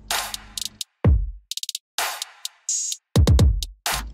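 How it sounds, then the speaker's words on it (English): An electronic drum pattern with kick, hi-hats and snare plays on its own, sharp bright snare cracks and short hat taps sitting between deep kick thumps in a loud, steady, looped groove with no voices. "Snare."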